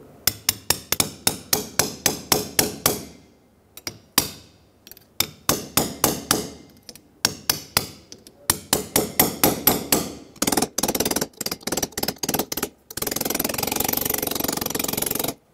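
Sharp, loud metallic hammer strikes driving a wheel seal into the hub of a 1996-2002 Toyota 4Runner, fast rhythmic bursts of blows separated by short pauses, ending in a longer stretch of dense rapid impacts.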